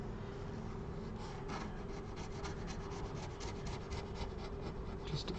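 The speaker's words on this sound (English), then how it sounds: "we're just going to clean up this adhesive a little around the outsides" An X-Acto double-end chisel scrapes leftover adhesive around the edges of an iPad Air 11 (2024) during a screen replacement, giving a steady, close rasping scrape that runs continuously without pause.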